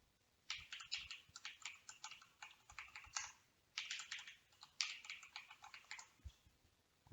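Typing a password on a computer keyboard, a close, quick run of crisp key clicks in two bursts with a short pause between, and no talking.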